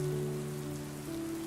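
Rain falls as a soft, steady hiss on a surface, faint and even, with a low sustained tone beneath it and no voices.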